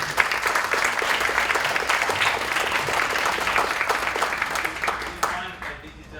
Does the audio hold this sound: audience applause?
yes